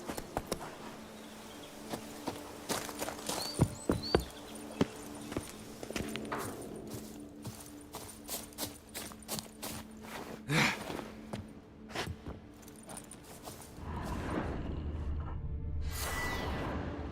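A horse's hooves clip-clop unevenly at close range while riding in The Witcher 3, mixed with soft thuds and buzzing ambience, before a louder rushing wash takes over near the end.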